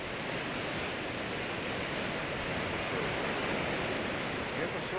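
Steady broadband wash of sea waves on the Black Sea shore at Odessa, a continuous even surf roar with no distinct breaks, fairly close and alone without voices.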